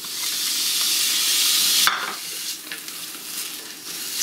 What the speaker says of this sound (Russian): Обжариваем лук, чтобы он стал мягким